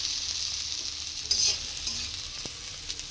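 Ginger-cumin masala paste frying and being stirred in a pan for fish curry, a soft steady sizzle with faint scraping, close and alone with no voices.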